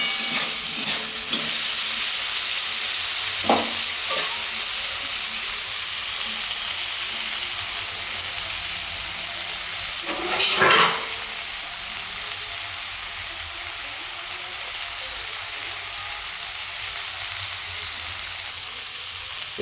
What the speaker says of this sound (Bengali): আলুটাও কিছুক্ষণ ভাজতে হবে,